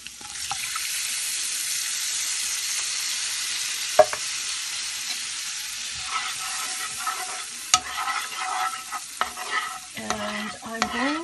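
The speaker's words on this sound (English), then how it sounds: "I'm going to add the coconut milk" Coconut milk being stirred into a shrimp curry in a pan, a steady wet scraping and swishing with soft sizzling, closer spoon knocks and clinks growing busier toward the end, no talking.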